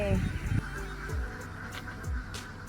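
Ducks honk and quack in a harvested rice field in a remote village, several calls close together over a quiet outdoor background, with someone talking in between.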